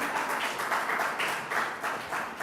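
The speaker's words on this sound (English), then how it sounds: "Give her more applause." Applause from a conference audience honouring a Ghanaian Forestry Commission climate change director, a steady dense wash of many hands clapping at moderate loudness with no talking over it.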